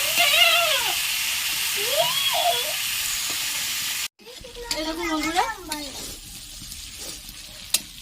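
Prawns fry in hot oil in a kadai with a strong, steady sizzle and hiss, which then drops to quieter frying and stirring under a voice.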